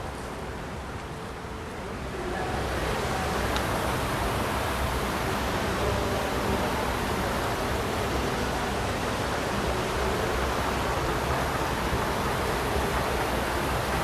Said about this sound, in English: I like the sound of that water in the background.